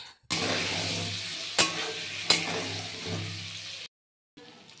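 Chicken and potato pieces with salt and turmeric sizzle steadily in hot oil, broad and close, with two sharp scraping stirs midway before the frying cuts off abruptly and returns faintly.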